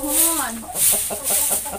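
Chickens kept in a coop beside rice fields in a rural village cluck in quick, close bursts that rise and fall in a steady rhythm, with no talk over them.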